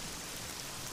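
Rain in the video game Oblivion falls as a faint, steady hiss of drops, even and unbroken through the whole brief moment with no talking.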